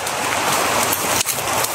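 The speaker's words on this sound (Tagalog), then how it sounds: "relax muna kami saglit dahil sobrang lakas ng ulan" Heavy rain pours down in a dense, loud, unbroken roar of hiss, briefly dipping for an instant before resuming at full strength.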